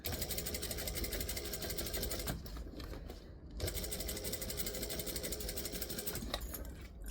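A sewing machine stitches a curved seam around a bag, with a steady rapid mechanical whir, close and continuous, and a brief pause partway through.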